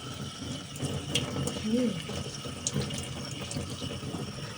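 Running tap water splashes and trickles while dusty houseplant leaves are rinsed clean, with a few soft clicks and handling noises and a faint voice in the background.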